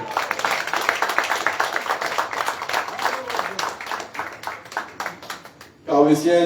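Steady applause from an audience at a conference in Le Carbet, Martinique, many hands clapping for several seconds before fading, then a voice begins speaking at the end.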